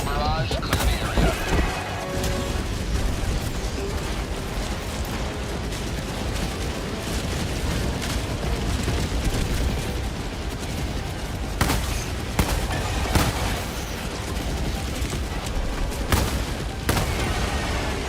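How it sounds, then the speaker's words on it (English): Orbital barrage explosions in the video game Helldivers 2, a dense continuous rumble of blasts and mechanical clatter with sharper bursts recurring toward the end, loud, with speech mixed in. "Firing orbital barrage. Clear the area."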